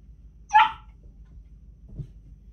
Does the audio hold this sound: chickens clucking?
no